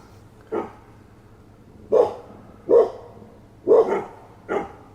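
Dogs bark in the near distance, five short separate barks spread unevenly over a few seconds against a quiet background.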